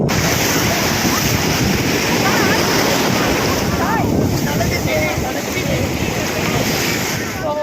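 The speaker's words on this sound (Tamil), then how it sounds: "காய்ஸ், பார்த்தீங்கன்னா நம்ம வந்து பாண்டி மெரினா பீச்சில் இருக்கோம்." Waves and surf rolling in at Pondy Marina beach in Pondicherry, a dense continuous wash mixed with buffeting wind on the microphone, loud and close, with faint distant voices in the background.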